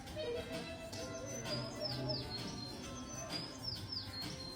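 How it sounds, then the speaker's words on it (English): Small birds chirping in short repeated tweets over a soft background murmur, fairly faint and slightly distant. "I can hear a bird."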